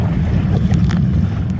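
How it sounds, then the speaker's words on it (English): Wind gusts and light chop slap against a kayak rounding a beach point near Blake Island, Washington, giving a steady close rushing noise with soft splashes and no talk. "Yep, the wind's picking up."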